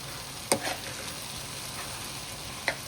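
Beef roast masala frying in a pan with curry leaves, a steady soft sizzle under two sharp stirring scrapes of a spoon against the pan, close and without talk.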